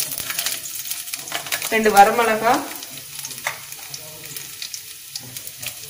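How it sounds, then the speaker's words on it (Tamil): Urad dal and garlic frying in hot oil for tomato chutney, a crackling sizzle that swells briefly then settles into light, steady frying with a few clinks, a voice speaking over it. "உளுந்து நல்லா பொரியுது"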